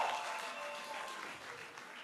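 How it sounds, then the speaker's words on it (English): An audience applauds at a national newsroom contest, a brief, fairly faint wash of clapping that fades slightly toward the end. "let's give a big round of applause to Uganda Matters University"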